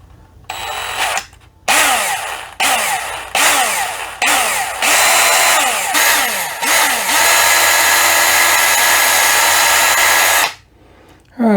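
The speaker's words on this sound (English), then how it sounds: "We're going to try to keep the drill bit in the very bottom of it" Power drill boring through a Matchbox toy truck, loud and close, its whine surging up in repeated short bursts with pauses, then running in one long steady spin before cutting off.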